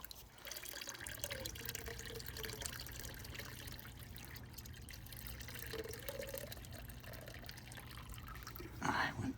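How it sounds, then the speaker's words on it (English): Rinse water from a lye-and-sugar silver chloride conversion is poured off, a faint, continuous trickle and gurgle of liquid that swells into a louder splash at the very end. "let's get the rest of this liquid poured off of here"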